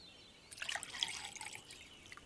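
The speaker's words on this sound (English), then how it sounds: "Could you pour me some more tea, dear?" Tea poured into a cup in a cartoon, a short close trickle and splash of liquid that starts suddenly, runs for over a second and fades out, with no voices.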